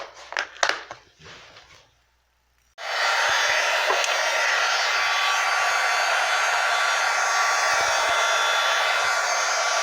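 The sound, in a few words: heat gun heating up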